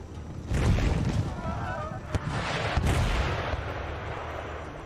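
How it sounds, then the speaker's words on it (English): Artillery fires on a battlefield in Empire Total War. Deep booms and sharp cracks come at irregular intervals, heard from a middle distance under ongoing battle noise and someone speaking. "You guys focus on the tribal auxiliary with your artillery fire"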